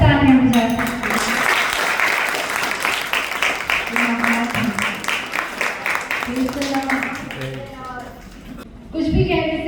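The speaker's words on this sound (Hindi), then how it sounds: "क्या हम अपने यीशु के लिए जोर से तालियां बजा सकते हैं?" A church congregation claps loudly for Jesus at a testimony service, steady dense applause running throughout with talk and voices mixed in over it.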